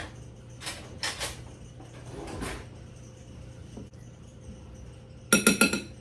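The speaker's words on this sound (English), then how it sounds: "you're just going to whisk that together" A whisk clinks against a bowl while ingredients are mixed together, in a few short scraping, rattling bursts separated by quieter gaps and ending in a louder flurry of metallic taps.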